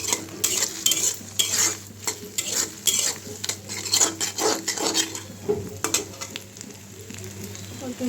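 Noodles cook in a pan over a low gas flame, a soft continuous sizzle with frequent close scrapes and clinks of a utensil stirring against the metal, no voices.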